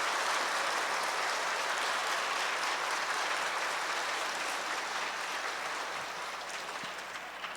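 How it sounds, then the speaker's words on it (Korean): Sustained applause from a large audience at a church children's summer Bible school concert, a dense steady wash of clapping that slowly tapers off. "세 분 교수님들께 한번 크게 박수하겠습니다."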